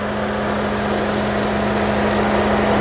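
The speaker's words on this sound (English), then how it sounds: "The engine is shaking a little bit." An Alfa Romeo that blows white smoke from the tailpipe idles with the engine shaking slightly, giving a close, steady hum with a constant tone and a fine, even pulse.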